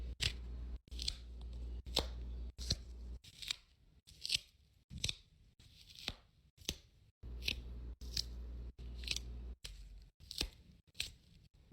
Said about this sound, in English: I'm just about to cut every circle on this puppet